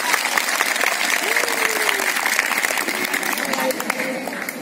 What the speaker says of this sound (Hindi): बड़ा अच्छा लगा, बड़ी अच्छी ताली बजाई